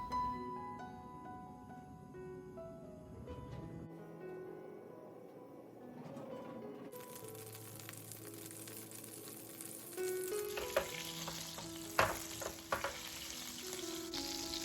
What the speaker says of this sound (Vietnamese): Lúc này mình để lửa trung bình nha, và mình để cho bơ thật là tan ra.